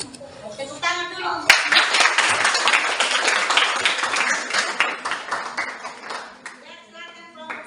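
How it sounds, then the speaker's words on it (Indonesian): Classroom of students clapping together for about six seconds after a group presentation, starting abruptly and fading out, with children's voices chattering at the start and end. "Tepuk tangan dulu."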